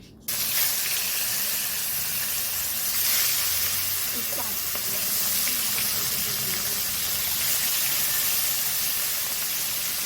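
Koi fish marinated in turmeric and salt fries in a hot kadai, giving a steady, loud, continuous sizzle and hiss that barely changes over ten seconds.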